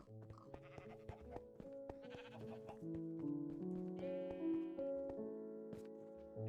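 Blocky sheep from Minecraft bleat in repeated short calls over a layered backdrop of music-like tones, with a few bleats standing out near and clear.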